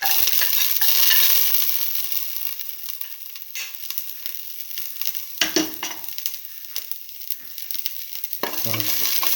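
Shallots sizzle and crackle as they fry in a pot for a mint potato stew, a steady broadband hiss broken by a few louder scraping stirs near the end, close and fairly loud with no talk.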